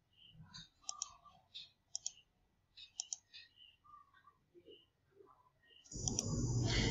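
A computer mouse clicks in quick, uneven bursts while trimming lines in CAD software. The clicks are close and crisp over near silence, and a louder rushing noise cuts in at the end.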